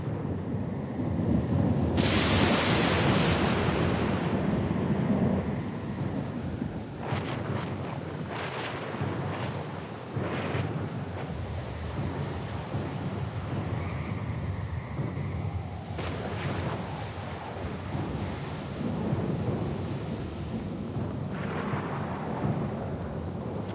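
Thunderstorm at sea with a loud crack of thunder early on, followed by sustained rumbling, wind and heavy rain roaring steadily throughout, with further rolls of thunder building later.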